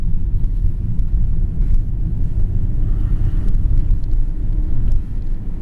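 A BMW E36 325td's 2.5-litre diesel engine idles with a loud, steady low rumble that holds constant throughout, with no talking.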